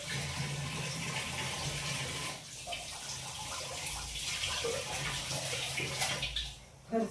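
Water pours into a vessel in a household kitchen with a steady splashing, gurgling flow that briefly eases midway, then fills on, close by, with faint background noise and no clear talk.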